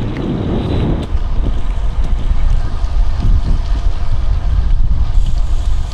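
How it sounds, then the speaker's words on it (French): Steady tailwind rushing and buffeting against the microphone, a constant broadband roar with low rumble throughout and no voices. "c'est le vent de dos qui était prévu, qui est bien là"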